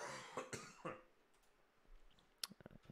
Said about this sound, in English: The return of my cough.